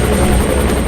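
Helicopter in an action movie, a loud steady rotor thrum with a close, continuous pulsing drone.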